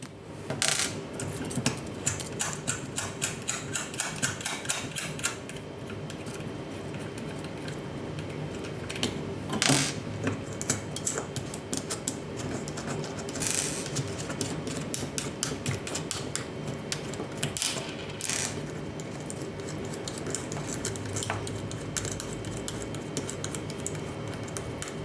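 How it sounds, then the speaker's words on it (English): Small plastic washers and spacers taken off an electronics board, heard as a long run of light, irregular clicks and ticks close up, with a few sharper taps. "Now we need to remove the plastic washers, and these spacers"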